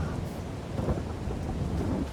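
Steady rain hisses throughout with a low rolling rumble of thunder underneath, no voices, in the video game Farming Simulator 22.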